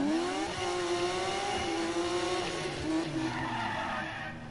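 A car in the Need for Speed 2015 racing game holds a long, steady tire squeal over a droning engine, loud and close, fading slightly at the end.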